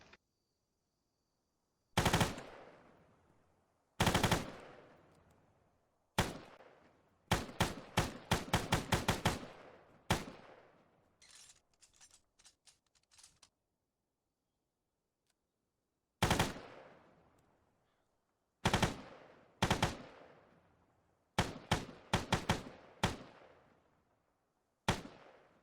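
A German WWII paratrooper automatic rifle (Fallschirmjäger, produced 1943–1945) firing in Arma 3: sharp close shots in single rounds and rapid bursts, separated by silent pauses and echoing tails.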